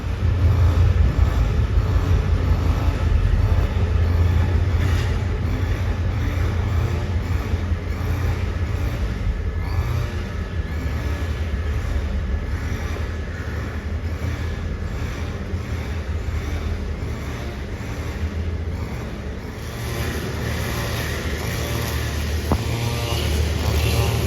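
Southern line train pulling out of Krung Thep Aphiwat station on an elevated track, a loud continuous rumble of wheels and engine with a steady rhythmic rail clatter, close and unbroken, without speech.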